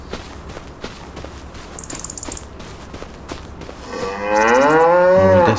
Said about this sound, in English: here is the other cow.